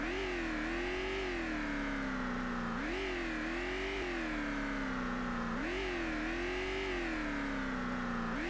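Car engine in the zombie survival game VEIN, a steady, loud revving drone that rises and falls in repeated waves as the vehicle drives, with no talking.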